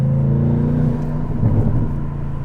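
An Audi RS7 tuned to 1001 horsepower rumbles and revs up, its deep engine note and growl loud and close, swelling briefly midway with no voices over it.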